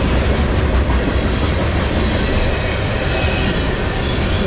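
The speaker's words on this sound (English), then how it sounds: "Caught the CSX, I think it was an ethanol train." A loud, steady rumble of a CSX ethanol freight train rolling past up close in South Plainfield, New Jersey, with continuous rail noise and wheel clatter.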